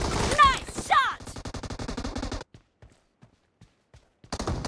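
Rapid automatic gunfire in PUBG Mobile rattles in an even, fast burst for about two seconds after a brief voice. It falls almost silent with faint taps, then firing resumes at the end.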